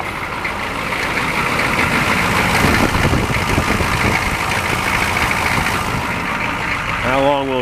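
Chevrolet K5 truck engine running steadily after a cold start, a loud continuous rumble that holds constant throughout with a brief rise near the end as it is revved slightly; a person speaks over it.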